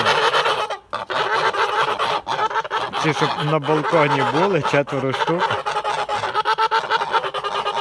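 Kholmogory geese, young ganders and a goose, honk and cackle loudly and near, a continuous noisy flock chorus with someone speaking briefly over it.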